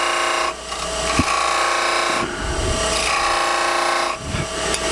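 A wood-turning tool cuts a V-groove into a spinning wooden bead on a lathe, giving a steady, close scraping and rubbing tone with a few brief dips and light knocks as the cut changes.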